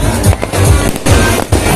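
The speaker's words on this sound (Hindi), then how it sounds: "देखो हर जगह पटाखे फूट रहे हैं अभी" Firecrackers burst all around on a foggy New Year's Eve, giving loud, close bangs in quick, irregular succession.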